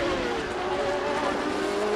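Sports racing cars from the FIA Sportscar Championship at Mondello Park, including an SR2 Lola, roar through a corner with steady loud engine drone and a brief hint of tire squeal, no talk over it.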